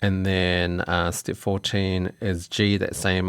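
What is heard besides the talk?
No everyday noise stands out behind the speech.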